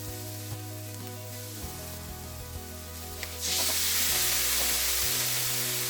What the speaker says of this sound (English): Finally, stir the bitter melon back into the pan.